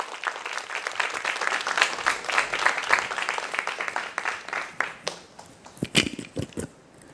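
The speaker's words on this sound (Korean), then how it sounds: "여러분들 큰 박수 부탁드릴게요." Audience applause at a study-tips lecture welcoming a Seoul National University student speaker: dense, lively clapping from a crowd, swelling then thinning into scattered individual claps near the end.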